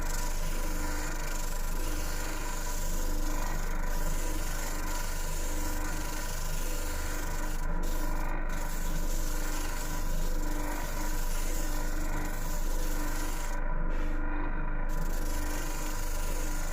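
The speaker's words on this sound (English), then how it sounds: "So here we have our oscillating bobbin sander, great piece of kit for doing round holes." An oscillating bobbin sander sanding a round hole in wood for a speaker baffle, a continuous loud motor hum with a rasping, rubbing grind held steady throughout.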